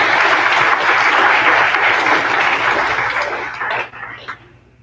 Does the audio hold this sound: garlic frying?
no